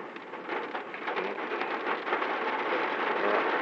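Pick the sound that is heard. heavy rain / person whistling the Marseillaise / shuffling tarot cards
heavy rain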